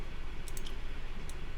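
A few sharp mouse clicks on a computer, a quick pair then a lone click, crisp and close against a quiet room.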